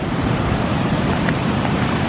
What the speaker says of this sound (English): the falls are really rolling